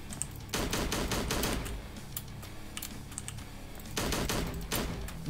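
Rapid bursts of gunfire in the Slendytubbies 3 video game, one long volley early on and a shorter one near the end, loud and close with quieter game ambience in between.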